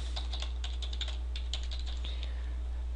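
Quick bursts of keystrokes on a computer keyboard as test credit card details are entered, clicky and fairly close, with short pauses between runs over a steady low hum.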